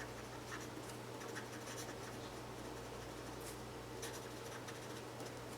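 A pen or marker writes on paper during a calculus lecture on how derivatives shape a function's graph, a soft, steady scratching that carries on throughout, faint beneath a constant low room hum with no talk.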